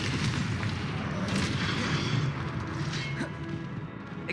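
Repeated blasting-curse explosions from Hogwarts Legacy spell combat, dense booming bursts layered over continuous loud battle noise.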